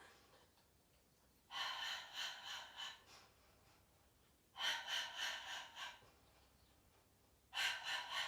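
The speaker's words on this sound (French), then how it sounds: "j'expire sur 5, j'inspire sur 5" Three long, audible breaths, each lasting about one and a half seconds and separated by quiet pauses, taken in and out during a Pilates abdominal exercise.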